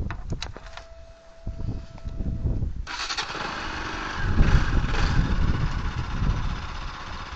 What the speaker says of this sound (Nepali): अब यही बाइकमा चाहिँ हामी जान्छौं